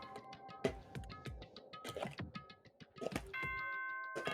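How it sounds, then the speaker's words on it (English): Doorbell chime from the Danganronpa video game: a bright, sustained multi-tone ding-dong rings out clearly near the end, after a busy stretch of sharp clicks and short game sounds. "Ding dong bing bong."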